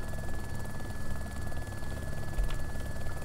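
The Littlebird helicopter in the video game ARMA 2 keeps up a steady rotor thrum and engine drone, loud and close, with a constant whine riding above it.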